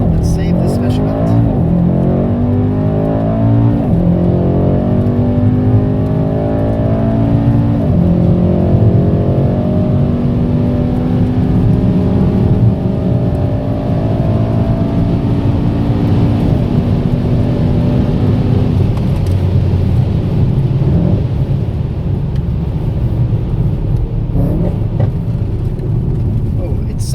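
Mercedes-AMG E 63 S 4MATIC+ Estate launching under launch control, its engine roaring loudly and climbing through repeated gear shifts for a sustained hard run, with people talking over the noise inside the car.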